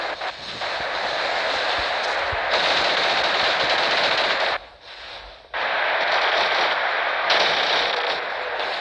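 Robot weapons in the War Robots game fire in long, loud, continuous bursts of rapid mechanical gunfire, cutting off briefly for about a second midway and then resuming just as hard.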